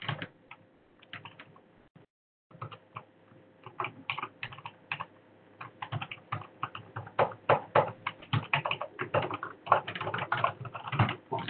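Rapid, irregular clatter of keys on a wireless computer keyboard during a code-writing session, the typing growing denser and louder after a brief pause, with no talk over it.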